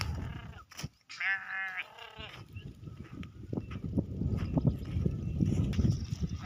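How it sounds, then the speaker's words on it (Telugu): A sheep gives a wavering bleat, then shuffling and rustling noises continue with faint background activity. "పోతాన్నాయి గొర్రెలు"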